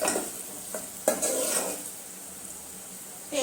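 Onions and whole spices stirred in a pan for egg biryani, a soft steady sizzle with spoon scrapes and clinks against the pot, a few sharper knocks between.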